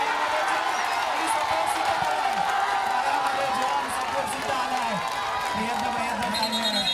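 Crowd noise from spectators at a kabaddi match, a continuous dense roar of shouting and cheering with a commentator's voice talking over it.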